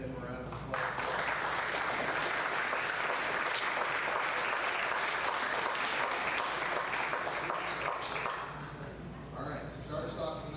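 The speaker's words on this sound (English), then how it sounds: "if you give them a round of applause" A high school sports banquet audience breaks into sustained applause, a dense and steady wash of many hands clapping that lasts about eight seconds before thinning out.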